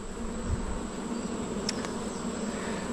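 Honey bees buzz in a steady, dense drone during a hive inspection, a continuous close hum with a faint brief click partway through and no voices.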